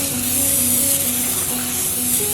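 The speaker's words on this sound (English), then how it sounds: "I'm going to take my basket for my air fryer and spray it with some non-stick cooking spray" Non-stick cooking spray hisses in a steady, loud continuous burst onto an air fryer basket, close up, with faint background tones and no talking.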